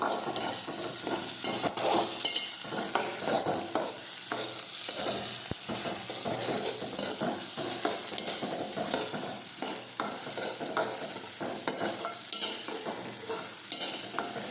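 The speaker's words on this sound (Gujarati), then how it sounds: "હવે આપણે સાતળી લઈશું." Chopped ginger and tomato sauté in a pan for urad dal, with a dense, continuous sizzle and constant scraping and stirring throughout, loud and close, with no voices.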